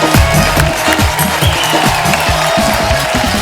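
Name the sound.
studio audience applause welcoming guests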